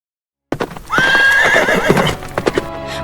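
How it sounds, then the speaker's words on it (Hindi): Horses whinny loudly and close, one long neigh rising and wavering over a few clip-clop hoofbeats, then fading into scattered hoof knocks. "बादशाह की तरफ से भेजे गए 2 जवानों ने दिन रात घोड़े भगाए।"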